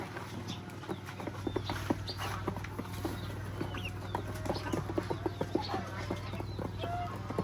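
Chickens cluck and a rooster calls repeatedly at close range in a farmyard where a newly hatched chick sits among the hens, with steady short clucks over constant background noise.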